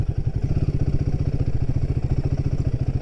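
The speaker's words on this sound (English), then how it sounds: "I'm just going to do the on-off throttle, just to see if there is any jerk at all" A Royal Enfield Himalayan 450 single-cylinder engine chugs at low speed during an on-off throttle test, a loud, close, evenly pulsing thump.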